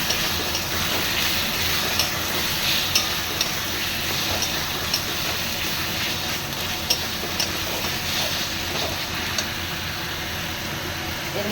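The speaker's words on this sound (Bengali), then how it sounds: "এবার আমি দিয়ে দেবো টমেটো। দিয়ে আবার একটু কষিয়ে নেব।" Tomatoes frying in hot oil for a mutton curry give a steady, dense sizzle that fills the whole stretch, with faint occasional clicks over the hiss.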